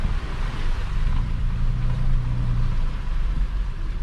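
Nissan Frontier pickup with a solid axle conversion, Dana 60 axles and 4.56 gears, driving with a steady low engine drone and road rumble that swells briefly mid-clip, heard from inside the cab.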